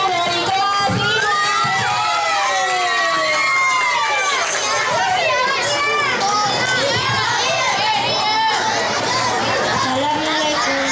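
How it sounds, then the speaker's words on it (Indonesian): Schoolchildren at a National Santri Day school event cheering, shouting and clapping loudly for a classmate from grade 5C after a poetry reading, a busy crowd roar of excited young voices throughout. "Mana tepuk tangannya untuk Ferry si ganteng dari kelas 5C."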